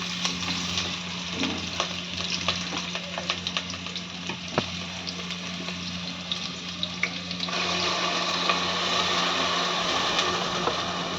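Onions and a couple of green chillies crackle in hot oil for an egg curry, a continuous close sizzle with scattered pops and stirring scrapes, growing slightly louder toward the end, with no talk.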